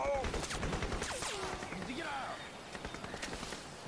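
Gunfire in the video game Crysis, rapid overlapping shots and bursts in the first half of the clip that thin out later, under faint ambient game sounds and a voice.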